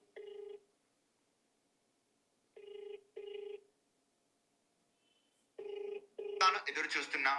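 An outgoing phone call rings on the line with short, clear ring-back tones, some single and some in pairs, separated by silence. Then a voice answers and talking begins.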